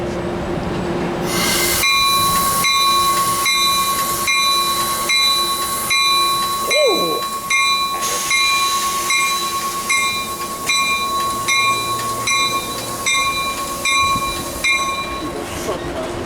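Amtrak train departing toward Fullerton: a steady horn-like tone and ringing bell pulse over rolling wheels, with rhythmic clicking, a brief squeal and a low rumble, loud and close.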